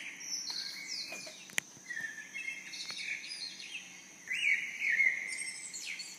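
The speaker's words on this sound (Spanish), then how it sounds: "oyes los pájaros" Birds sing outdoors in a calm natural setting, with several thin chirps and trills from a few distance points over faint background noise.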